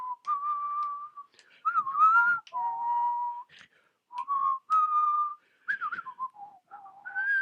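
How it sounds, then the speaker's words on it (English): A person whistles a melodic tune up close, in clear sustained notes and short phrases separated by brief pauses, with no talking over it. "I'll do the Huh. intro with whistles."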